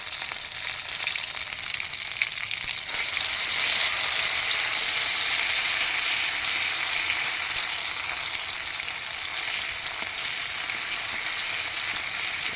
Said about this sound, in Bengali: थोड़ा सा फ्राई हो गया